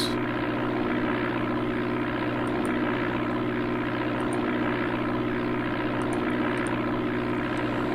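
Steady, droning propeller engine of a light airplane in the Amiga game Flight Simulator II, flying from Dubuque toward La Crosse; a constant loud hum with fixed tones and no talk over it.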